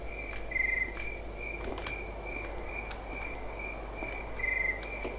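Crickets chirp steadily in a night ambience from the horror game Granny 3, a continuous high trill with brief louder bursts near the start and end over a low background hum.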